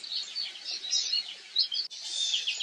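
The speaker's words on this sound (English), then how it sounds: "Their chattering chorus is the white noise of spring birdsong." A spring chorus of goldfinches chattering nonstop, many overlapping high twittering calls forming a steady bright wash of chirps, close and clear with no talking.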